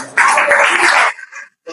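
A church congregation at an intercession service bursts into loud applause and cheering. The burst lasts about a second, then drops to faint scattered sound.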